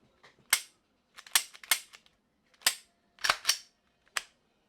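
A Tora pistol, a Montenegrin import, gives sharp close metallic clicks and snaps as its slide and trigger reset are worked, about seven isolated crisp hits spread irregularly across a quiet background.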